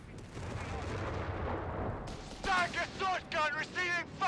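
Anti-tank rounds fire in the Company of Heroes video game, a run of loud, punchy shots in quick succession behind a game announcer and commentary, with a dense battlefield rumble underneath.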